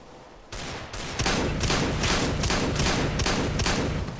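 Loud shotgun blasts in the game CS:GO fire one after another at a steady pace, roughly eight heavy reports following an initial quieter stretch.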